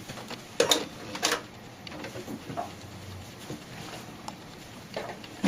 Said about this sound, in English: And sew it all the way around.